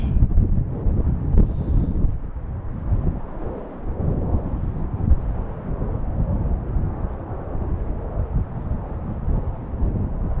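A Southwest airliner arriving at BWI airport in Baltimore, heard as a loud, steady broadband jet roar with wind buffeting the microphone, lasting throughout with no talking.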